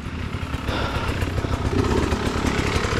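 A motorbike engine roars loudly and continuously with the throttle stuck open, revving high and rough with a buzzing, sputtering edge and no talking over it.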